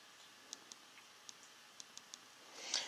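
Keys on a financial calculator are pressed in a quiet series of about seven small, crisp clicks, irregularly spaced and close, followed by a faint rustle.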